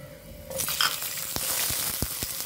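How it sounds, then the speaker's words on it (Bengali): Chopped tomato hits lightly fried garlic in a hot pan, and a loud sizzle bursts in after a quiet moment, then continues with sharp stirring clicks and taps. "রসুনগুলো হালকা ফ্রাই হয়ে গেলে দিয়ে দিচ্ছি টুকরো করে কাটা একটি টমেটো"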